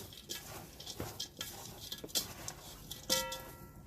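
Potato soup ingredients stirred together in a slow cooker, giving soft scraping and clinking of a spoon against the pot in irregular bursts, fairly quiet and close, with no talking.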